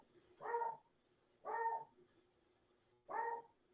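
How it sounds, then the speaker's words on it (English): A dog barks three times at even intervals, each bark a short muffled woof heard at a moderate distance, with nobody talking. "There's the dog."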